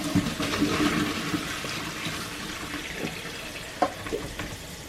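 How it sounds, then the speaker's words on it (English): Water from a cooking pot is poured out into a kitchen sink and then rinsed, giving a continuous gushing splash that gradually eases, with a few clinks near the end. "we're gonna pour it out over the sink, and then we're gonna rinse it"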